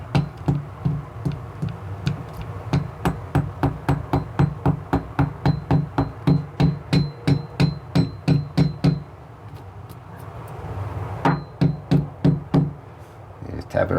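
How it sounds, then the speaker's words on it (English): Wall anchors are tapped in to mount a Ring doorbell: rapid, evenly spaced close knocks in two long runs with a short pause between, then a few more hits. "So I'm just going to take these anchors, just tap them in."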